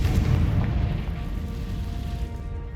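A fiery Confringo spell explosion from Hogwarts Legacy lands as a loud, low boom with a rumbling tail that stays strong and slowly fades over a couple of seconds, alone without talk.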